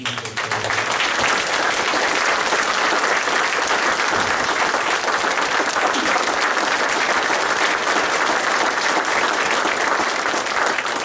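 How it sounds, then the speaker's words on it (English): A large audience breaks into sustained applause, loud and unbroken clapping that stays at an even, dense level from start to finish with no voices standing out. "let's give these guys both a big round of applause"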